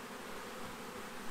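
Honey bees hum softly and steadily at an open hive of a small colony, a faint continuous buzz.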